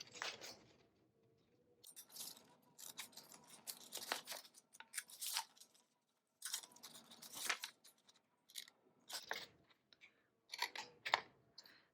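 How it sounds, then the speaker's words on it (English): Repeated short bursts of scissors snipping tiny triangles from paper for a paper model car, crisp and close, in uneven clusters with brief pauses, no talking. "I'm gonna angle my scissors and just cut these tiny"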